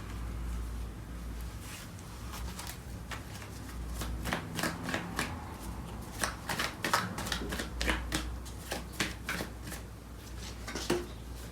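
Tarot cards shuffled by hand, a run of crisp riffling bursts and flutters in irregular rhythm, close and fairly quiet with no talking.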